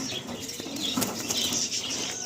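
Best-quality Andhra pigeon released from a loft in Kolkata, wings flapping in a steady flurry close by, with faint chirps over ambient noise.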